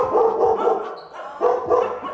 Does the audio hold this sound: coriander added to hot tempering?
no